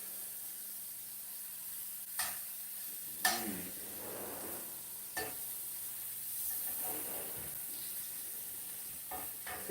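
Steak sizzling on a grill, a soft continuous frying hiss with a few sharp pops and crackles breaking through at intervals.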